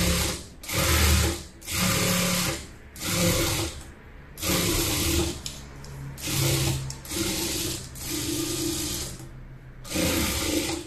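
A sewing machine runs stitching piping onto the edge of a two-year-old child's frock, in repeated bursts of rapid mechanical whirring and clatter separated by short pauses, loud and close with no talking.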